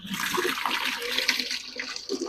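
Water pours steadily over grain being washed in a container, a continuous splashing rush that stays fairly loud and even throughout, with no talking.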